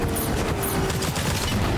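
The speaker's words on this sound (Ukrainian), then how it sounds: "Два постріли. Де там стрілянина?" Rapid, dense gunfire in the Fortnite video game forms a continuous loud burst of overlapping shots with a hissing high edge, without pause throughout.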